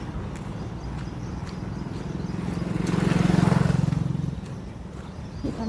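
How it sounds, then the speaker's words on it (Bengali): A vehicle passes along a road during an early morning walk, its rumble swelling to a peak a few seconds in and fading away over low street ambience. "গাড়ি যাচ্ছে।"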